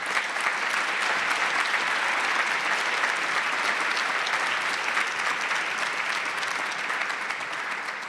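Sustained audience applause welcoming human rights advocate Elisa Massimino at an LGBTQ human rights event, a steady, dense clapping from a large crowd that holds for the whole stretch.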